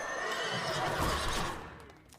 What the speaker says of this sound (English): Oh, that horse is good though.